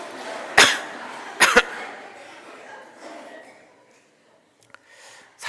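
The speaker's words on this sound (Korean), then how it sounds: "우리 다 같이 한번 기침할까요? 두세 번 같이 신나게 하겠습니다." A church congregation coughs together on cue: two sharp, crowded bursts of coughing close together, then a scattered fading murmur and near silence, with another cough at the end.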